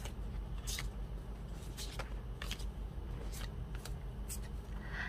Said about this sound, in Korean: 그러면 여러분들의 좋은 카드를 뽑아보도록 할게요